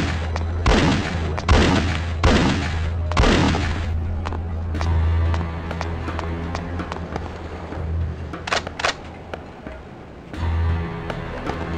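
A sniper pistol in The Mummy Returns video game fires four loud shots in a quick, fairly even rhythm. Scattered clicks and smaller impacts follow, then another burst near the end over a low game hum.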